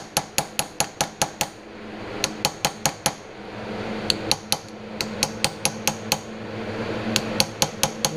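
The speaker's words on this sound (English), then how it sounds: "I'm just barely tapping it. You don't want to get hog wild with it." A hammer lightly taps an aluminum vent window frame on a 1966 Ford Galaxie 500 convertible. Crisp metallic taps come in quick bursts of four to eight, close and clear, with short pauses between the runs.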